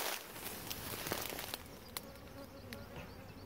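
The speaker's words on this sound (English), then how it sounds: "I'm going to come back and get these bees." Honey bees buzz steadily around an apiary, a dense continuous hum of many insects close by, with a few faint clicks and knocks over it.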